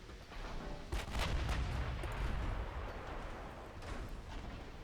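A warship's 7-inch gun in the Ultimate Admiral: Dreadnoughts naval video game fires at destroyers, giving heavy booming blasts with deep rumbling tails that overlap into a continuous low roar.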